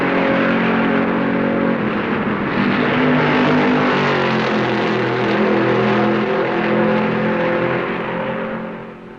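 NASCAR stock cars roaring around the track at the 1970 Southern 500, a dense, continuous engine drone with shifting pitch as the pack circles, loud and steady throughout before easing slightly at the end.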